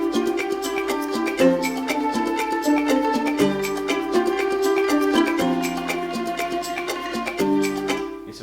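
A string section holds sustained chords low beneath a busier music arrangement, with a steady pulsing accompaniment running throughout and no voices.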